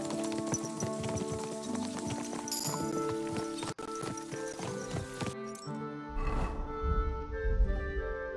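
Horse hooves clip-clop steadily in the video game Kingdom Come: Deliverance II, a close, even gait with an ambient backdrop, then a brief neigh-like burst near the end.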